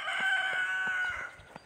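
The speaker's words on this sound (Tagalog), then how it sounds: "Talaok ng manok." A rooster crows once on a morning street in a village neighborhood, sounding bright and moderately distant. The long drawn-out call fades out, with a few soft footsteps after it.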